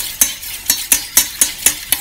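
Chocolate pudding mixture with one whole egg being stirred in a bowl, giving seven evenly spaced scraping strokes, close and fairly loud, with no voices.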